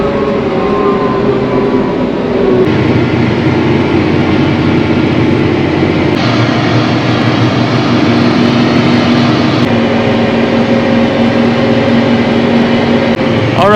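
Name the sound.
tractor driving to the next field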